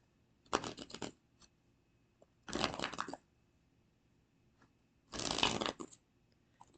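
Three separate bursts of cards being riffle-shuffled, each about half a second long, close and clear against near silence.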